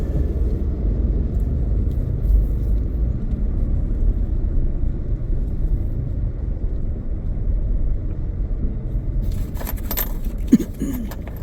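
Steady low traffic rumble of cars and motorbikes streaming past an unlit red-light junction on a congested roadside route in Indonesia, continuous and close, with a brief clatter and some higher engine noise near the end.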